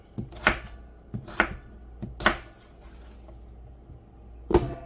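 A knife chops potatoes on a cutting board with four or five firm, separate thunks at an uneven pace, each followed by a short pause, close up in a quiet kitchen.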